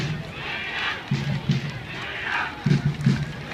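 Thai football supporters in a stadium chant a club name in unison, rhythmic shouted bursts from a crowd heard at a distance over steady background murmur.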